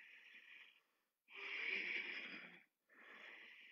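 Three deep, audible breaths taken during a morning yoga session, each a drawn-out airy inhale or exhale separated by brief silences, close and fairly quiet.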